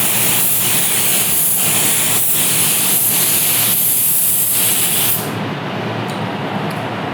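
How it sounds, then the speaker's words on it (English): A spray gun lays a light coat of clear coat, giving a steady, loud, close hiss with faint pulsing. It cuts off sharply near the end and leaves quieter background noise. "we're actually going to take this and spray this a little bit lighter"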